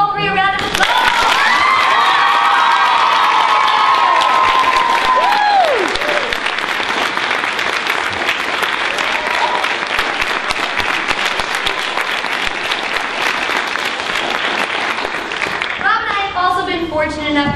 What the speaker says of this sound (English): Let's give all 3 a round of applause.